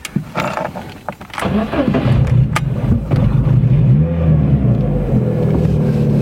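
A Lada Priora 16-valve car converted for LPG runs on petrol here, its engine idling steadily with a low, even hum, close up after a few brief knocks and clicks at the start.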